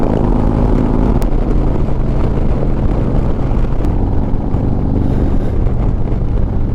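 An Indian Challenger motorcycle is ridden at speed, its engine a loud steady drone buried under heavy wind rush across the microphone throughout.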